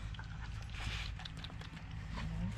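Excited wolfdog puppy at a wolfdog sanctuary in Washington whimpering and panting close by, with a steady, busy run of small squeaks and breaths over low background rumble.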